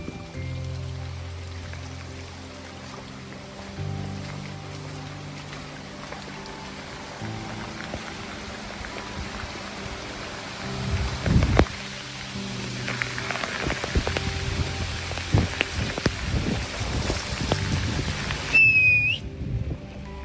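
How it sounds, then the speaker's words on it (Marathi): Monsoon rain falls steadily at Machal in the Konkan hills, a broad wash of drops under a low, droning tone, growing louder and more splashy toward the end, with a brief high whistle near the close. "माचाळचा पाऊस म्हणजे सुरेल संगीत जणू एका सुरात सरी गात होत्या"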